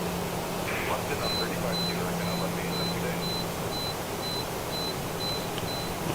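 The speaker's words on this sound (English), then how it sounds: "I think my dehumidifier is full. The alarm's going off." A dehumidifier's full-tank alarm beeps in a steady series of short, evenly spaced electronic tones, about a dozen, over constant background noise and a low hum.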